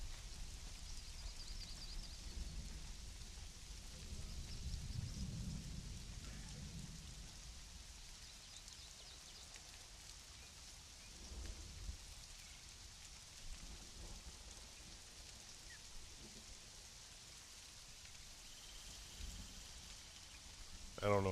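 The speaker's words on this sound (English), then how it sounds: "it'll get me out of the damn rain" Rain falling in the video game Conan Exiles, a faint steady hiss of drops with a low rumble near the start, heard under quiet speech.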